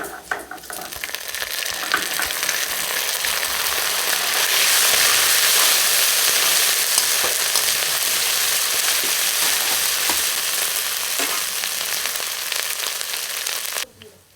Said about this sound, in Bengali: পেঁয়াজটা লাল লাল করে ভাজা হয়ে গেছে এর মধ্যে আবার আদার পেস্টটা দিয়ে দেবো